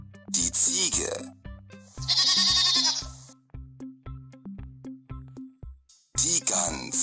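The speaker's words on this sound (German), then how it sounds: "Die Ziege." A goat gives one wavering bleat lasting about a second, close and fairly loud over rhythmic background music, with short spoken words before and after.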